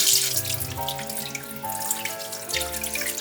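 Water runs steadily from a tap into a sink, with soft splashing and occasional rubbing and clinking as pork ribs are rinsed and scrubbed under the stream.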